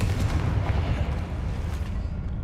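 A Confringo blasting spell cast in Hogwarts Legacy, heard as a loud, low, rumbling boom that holds for a couple of seconds before slowly fading.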